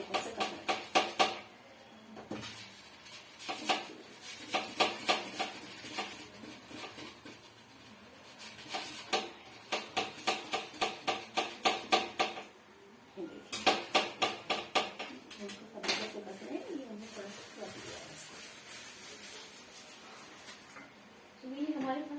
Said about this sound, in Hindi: कद्दूकस से कस रहे हैं।